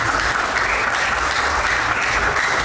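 Dense, loud applause from a wedding crowd fills the whole moment, steady and unbroken.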